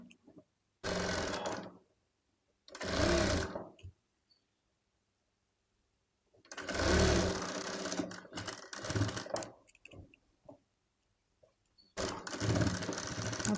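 A sewing machine attaches a sleeve to a baby top in four separate runs of mechanical whirring, some short and some longer, with silent gaps between them.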